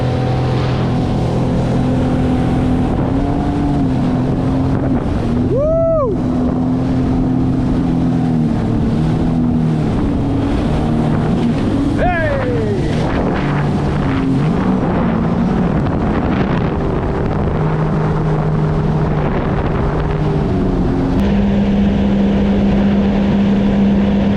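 A 2021 Sea-Doo RXP-X 300 personal watercraft engine drones loudly and rises in pitch as it speeds up on the St. Johns River, with heavy wind buffeting the microphone throughout.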